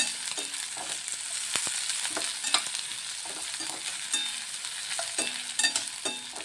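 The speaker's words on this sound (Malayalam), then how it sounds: "ഈ ഇഞ്ചിയുടെ കൂടെ നമുക്ക് നല്ലപോലെ വറുത്തെടുക്കണം" Steady sizzling of ginger and chilli frying in hot oil, with repeated scraping stirs of a spatula against the pan; close and moderately loud, no voices.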